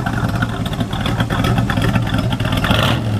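A stock 1965 Chevrolet Corvette coupe with a 327 V8 rated at 365 horsepower revs up hard, its loud, throaty exhaust held near and steady for several seconds with no talking over it.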